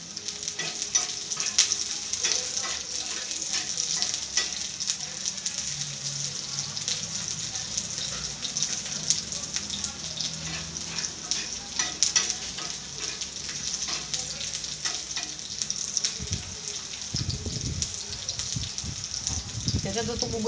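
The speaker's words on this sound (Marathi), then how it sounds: "या पद्धतीने मसाला भाजून घ्यायचा," Garlic, ginger and green chilli masala for chicken curry fries in a pan, a steady hissing sizzle with repeated stirring scrapes and clanks, some low murmur beneath near the end.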